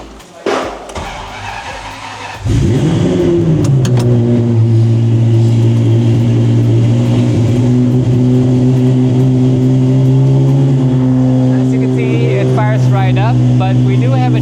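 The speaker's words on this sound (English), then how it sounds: "so we can start the car" A Ferrari 550 Maranello engine starting: a brief cranking whine, then the engine catches and settles into a loud, steady idle with slight revving, close by, with faint voices toward the end.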